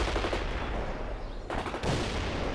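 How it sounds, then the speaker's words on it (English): Dense gunfire and rapid machine-gun bursts from the real-time strategy game World in Conflict, loud and continuous with a brief dip in the middle before the shooting swells again. "They're under fire."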